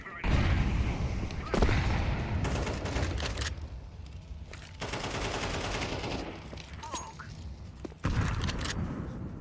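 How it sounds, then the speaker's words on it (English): A flashbang grenade in Counter-Strike 2 goes off amid repeated loud gunfire bursts, sharp cracks and booms coming in several close, dense volleys across the clip. "Throwing flashbang"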